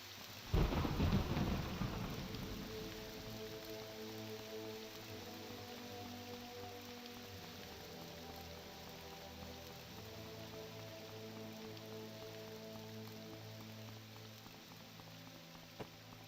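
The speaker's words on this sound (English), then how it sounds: "It's a rainy day." Rain and thunder in the video game Morrowind: a burst of thunder near the start, then steady, moderate rainfall with a low rumbling bed, no voices.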